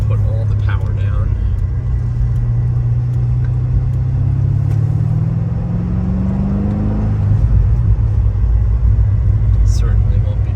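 A cold 2006 Chevrolet Corvette Z06 rumbles at steady, close range while driving gently, its low engine drone rising slightly in pitch before easing off, with no hard acceleration.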